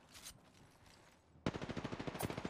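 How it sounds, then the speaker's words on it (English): Rapid automatic gunfire in Apex Legends, a burst of evenly spaced loud shots beginning abruptly about halfway through after quieter game ambience and a distant shot. "Getting shot at."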